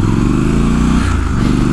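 Triumph Scrambler 1200XE motorcycle engine heard while riding, a loud, steady, close rumbling drone with a slight shift in pitch midway and no voices.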